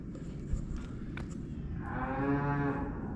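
A cow lets out one long, loud, low moo that swells and holds near the end, preceded by quieter outdoor background noise and a single soft knock.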